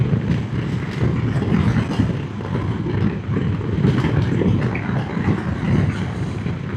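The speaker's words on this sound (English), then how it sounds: "rather windy." Strong wind buffets the microphone during a Triumph motorcycle ride along the coast near Stonehaven, Scotland: a loud, continuous, gusting roar over a low engine rumble, with no talking.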